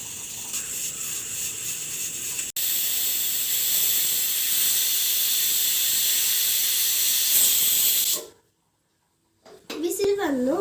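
A pressure cooker on the stove vents steam during a one-whistle cook of vegetable pulao, giving a loud, steady hiss of about eight seconds that cuts off abruptly, followed by silence and then a brief rising tone.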